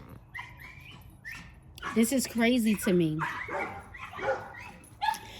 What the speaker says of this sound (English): Don't mind those dogs.